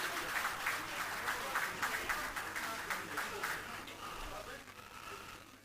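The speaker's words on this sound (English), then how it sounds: "can we have a round of applause for them?" A crowd applauds with dense, steady clapping that fades slightly toward the end.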